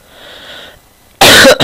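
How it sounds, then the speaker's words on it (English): A single loud, harsh cough bursts out near the end, close to the microphone, after a stretch of faint quiet background. "Got a bit of a cough today"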